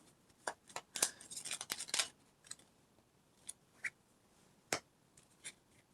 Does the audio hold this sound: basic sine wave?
no